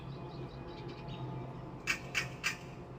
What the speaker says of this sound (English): the birdies are pretty active today. There's all kinds of them making noise.